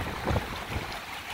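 Strong wind on a lake at a canoe campsite buffets the microphone with a low, continuous rumbling roar and uneven gusts, with no voices present.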